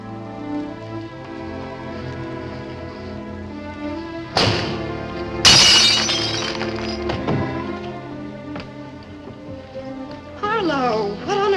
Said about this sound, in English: If you break a window, if you shatter a pane of glass in the dead of night, it makes a noise.